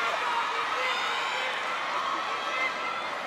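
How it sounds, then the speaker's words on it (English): Spectators at a 2023 PVL All-Filipino Conference women's volleyball match, Choco Mucho versus Cignal, fill the arena with a steady, loud, unbroken crowd roar that holds an even level throughout. "And you can hear the crowd behind Des Cheng."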